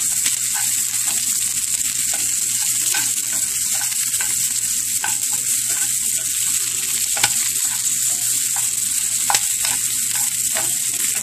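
Garlic and onion fry in a pan with a loud, continuous crackling sizzle, dotted with small pops and stirring scrapes throughout, and no voices.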